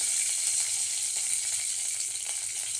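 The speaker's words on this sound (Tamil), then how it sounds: "கருவேப்பிலை கொத்தமல்லி போடும்போது பயங்கரமாக தெரிஞ்சுதுப்பா" Curry leaves and coriander hit hot oil while making egg podimas, giving a bright, constant sizzle with fine crackling spatters, close and steady throughout, with no talking.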